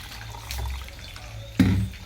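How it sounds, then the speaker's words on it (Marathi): A short splash of cold water being poured into a mixer jar of cream, preceded by a few faint clinks and quiet handling noises. "आणि वतायचं आहे त्याच्यामध्ये थंड पाणी"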